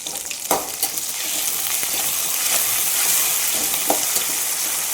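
Ginger garlic paste frying in a pan for mutton curry gives a loud, steady close-up sizzle with a few scraping stirs, no voices.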